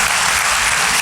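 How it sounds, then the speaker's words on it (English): Audience at a county candidates forum applauding, with dense, steady clapping that stays close and loud throughout, and no speech over it. "Let's give them another round of applause."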